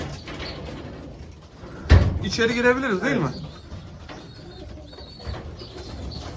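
Homing racing pigeons coo in a loft in Osmaniye, with low warbling calls rising under close conversation and a brief knock or thump at the start.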